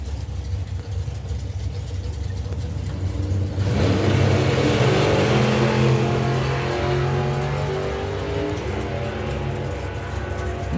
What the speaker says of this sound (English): Have a listen to the length of this throttle stop.